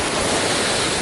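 A waterfall roars as a steady, dense wash of broadband noise, loud and close, with no voices over it.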